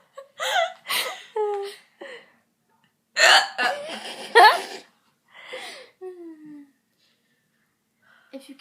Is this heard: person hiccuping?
yes